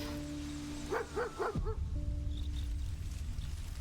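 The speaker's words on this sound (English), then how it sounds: "Oh yeah, the dog's still here." A dog in Baldur's Gate 3 gives three quick, close barks in a row, then a softer whine, over a steady low game ambience.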